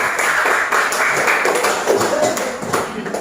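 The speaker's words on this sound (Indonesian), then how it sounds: "Baik, tepuk tangan dulu untuk kelompok 2." Short burst of classroom applause for a student group, students clapping together in a dense, fairly loud patter that persists steadily with slight murmuring beneath.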